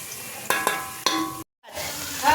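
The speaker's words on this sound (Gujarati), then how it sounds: "ડુંગળી અને લસણના બેને તળવા દઈશું।" Onion and garlic frying in oil in a pan, a steady close sizzle with a few sharp stirring knocks and a brief silent gap partway through.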